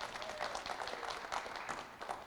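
An audience at a Vegan Society 80th anniversary memorial lecture gives a round of applause, dense overlapping claps rolling steadily at moderate distance, with a faint spoken murmur beneath.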